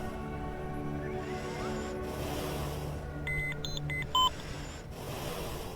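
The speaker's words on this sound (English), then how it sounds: "another beeping noise." Synthetic electronic beeps from Kerbal Space Program chirp in short tonal bursts over a low droning hum, a quick cluster of bleeps near the end.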